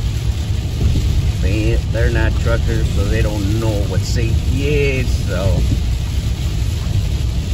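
Heavy rain pounding a car on a Southern California road, a steady broadband roar with low road rumble that stays loud throughout while someone talks over it.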